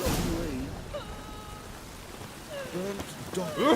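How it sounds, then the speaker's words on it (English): Steady rain hisses softly through an outdoor scene in The Witcher 3: Wild Hunt, a faint continuous wash under voices talking throughout. "Looks like rain."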